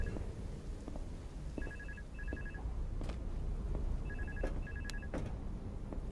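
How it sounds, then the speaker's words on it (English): A telephone rings inside a horror video game, with clear electronic double rings in two bursts over a low, murky ambient background, and no talking. "I hear that phone call."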